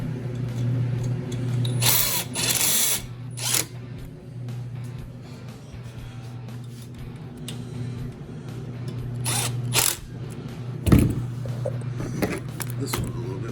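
A power driver tightens a bolt on a dash harness in an 02-04 Ford Super Duty, with short whirring bursts separated by pauses and a steady hum underneath, plus a sharp clunk near the end.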